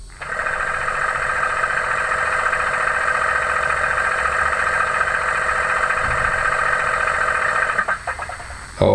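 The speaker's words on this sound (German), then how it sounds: "Auf 9 der Kompressor." Air compressor effect from a sound decoder in a Roco V 100 model diesel locomotive, a steady mechanical hum with a tonal whine running almost continuously for about eight seconds, close and fairly loud, then cutting off near the end.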